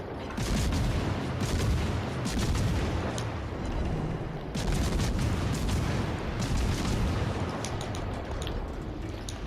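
Worcester cruiser front guns in World of Warships: Legends fire in rapid continuous barrages, dense overlapping booms forming a loud rolling roar with a brief gap between two long volleys.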